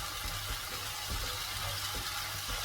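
Paneer gravy masala sautéing in hot oil, a steady soft sizzle with faint stirring scrapes throughout, fairly quiet and close, no talking.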